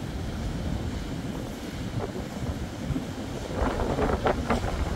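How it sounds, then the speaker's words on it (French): Strong wind gusts on a stormy Mediterranean sea coast at Cap Couronne, Martigues: a steady roar of wind buffeting the microphone, swelling into louder, rougher gusts toward the end, with no voices. "Les rafales de vent qui emportent l'écume."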